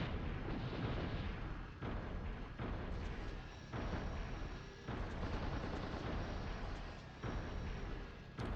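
Repeated heavy booming shots from a semi-automatic weapon in the video game Steel Battalion, about eight dense blasts at a steady uneven pace, each with a rumbling tail over constant loud mechanical background noise.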